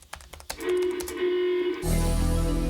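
A short run of crisp computer keyboard clicks sounds at the start, followed by a sustained electronic tone and then a burst of loud, dense noise.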